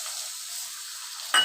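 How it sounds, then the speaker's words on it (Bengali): Whole cumin, cardamom, cloves, cinnamon, black pepper and bay leaf frying in leftover prawn-frying oil, giving a steady soft sizzle throughout that ends in a brief louder stir or clatter near the close. "চিংড়ি মাছ ফ্রাই করা ওই তেলে আমি গোটা মশলা অ্যাড করব।"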